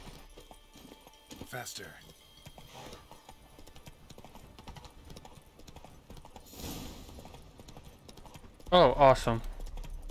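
Roach the horse ridden in The Witcher 3 on Fyke Isle, hooves clip-clopping steadily through the scene beneath a player's intermittent talk, with a louder burst of voice near the end.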